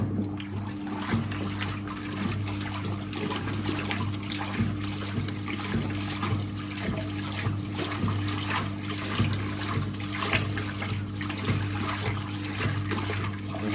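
A 1958 Hotpoint Empress washing machine with its agitator running in water, a steady motor hum with rhythmic sloshing and splashing, continuous and close, no talking.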